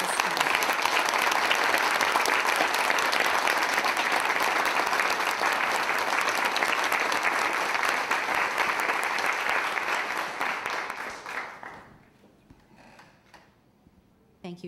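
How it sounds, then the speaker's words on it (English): A room at a school board meeting gives a round of applause for staff, sustained clapping from many hands at even loudness for about ten seconds, then fading out to near quiet with a few faint sounds after. "And a round of applause for our wonderful staff."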